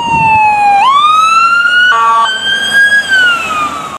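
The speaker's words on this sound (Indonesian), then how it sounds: "Ambulan didu didu" A loud, close ambulance siren wails steadily, its pitch sweeping slowly up and down, with a brief warbling burst partway through and no voices.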